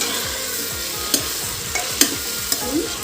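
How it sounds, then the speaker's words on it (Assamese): Spices are stirred into black chickpeas frying in a pan, giving a steady close sizzle with rhythmic scraping strokes of the spoon and a few light clinks. "মছলাখিনি দি ভালদৰে অলপ সময় লৰাই দিছোঁ"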